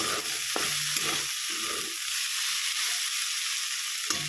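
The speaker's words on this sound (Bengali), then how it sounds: "ভেন্ডি কটা ভাজবো আর ডিম ভাজবো" Okra (bhindi) frying in a pan, a continuous sizzle broken by a few scraping stirs from a spatula, close and alone without voices.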